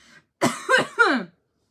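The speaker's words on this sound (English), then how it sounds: "nope, not done coughing" Three close, raspy coughs in quick succession from one person, after a faint short sound and followed by silence.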